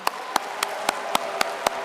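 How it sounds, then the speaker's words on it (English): An audience at a Biafra independence declaration event claps in a steady, evenly spaced rhythm, with about eight sharp hand claps standing out over a continuous background of crowd noise. "Another round of applause for him."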